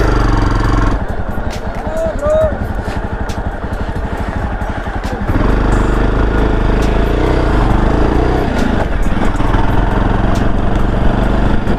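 An ATV engine runs steadily on a snowy winter ride in Kashmir, a loud continuous motor drone with a rough, pulsing texture. It carries on without a break, and voices murmur in the background.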